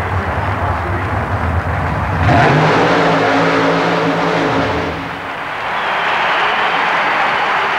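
A naturally aspirated 1932 Chevrolet super modified mud racer at an indoor arena event revs hard, its engine rising to a loud, strained roar for a few seconds before easing off, with crowd noise and commentary underneath.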